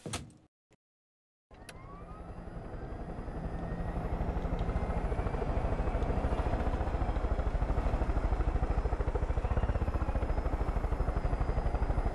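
Helicopter in the video game Far Cry 5: after a brief gap, the rotor spins up into a loud, steady, rapid chopping drone with a rising engine whine that holds throughout.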